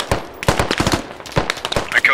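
A machine gun firing in the military shooter game Squad: loud, close bursts of rapid cracking shots in several clusters with short gaps between them.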